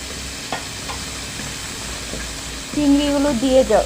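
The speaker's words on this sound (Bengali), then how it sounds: "নিয়ে এখন দিয়ে দেব এইখানে চিংড়ি মাছ, কিছু ছোট চিংড়ি" Small shrimp fry in hot oil for a jute leaf dish, making a low steady sizzle with light stirring taps, then a louder burst of crackling spatter near the end. No one speaks.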